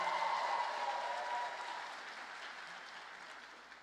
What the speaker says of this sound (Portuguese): Será que você pode aplaudir o nome de Jesus o mais alto que você puder?